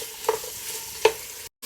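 Tomato paste frying in a pan with vegetables, a steady soft sizzle broken by two sharp stirring scrapes, close and alone before a brief cutoff.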